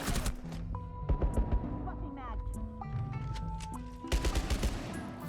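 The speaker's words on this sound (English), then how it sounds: "I tried to hip fire him." Hip-fired gunshots in the video game Rainbow Six Siege X, rapid bursts of gunfire with in-game effects, heard under continuous talk from players throughout.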